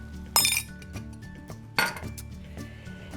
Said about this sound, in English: I mix it up a little bit before I add it to the beaten eggs